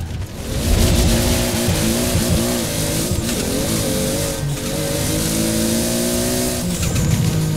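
Loud, sustained engine roar of a max-tuned Toyota Supra MK4 accelerating in Forza Horizon 4, its pitch climbing and dropping through repeated gear shifts, with faint tire squeal, and no talk.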